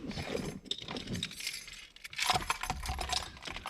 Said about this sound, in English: Right, let's get the car's keys.